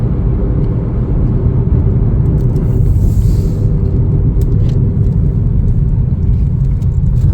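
Steady, loud road rumble from inside a 2024 Chevrolet Trax LS while driving, a constant low drone with brief faint higher ticks and no talking.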